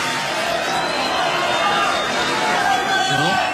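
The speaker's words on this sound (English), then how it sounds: "Wow, listen to the crowd." A packed stadium crowd roars at the Australian Open men's final between Rafael Nadal and Daniil Medvedev, a dense, continuous wash of cheering and babble that stays loud throughout.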